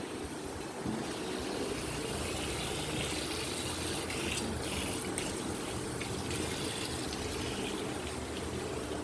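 Water runs steadily indoors, a continuous loud rushing gush that fills the room and keeps on without a break.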